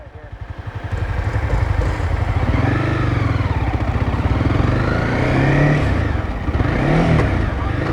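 A Honda CBR 300 motorcycle engine idles with a steady low pulse, then revs up loudly as the throttle is worked, holding a rising and falling drone close by for several seconds.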